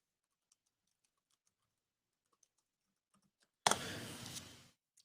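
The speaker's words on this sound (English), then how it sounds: "And I'm typing out a message, obviously, out on Twitter." A burst of rapid typing on a computer keyboard, a dense run of clicks lasting about a second after near silence broken by a few faint isolated taps.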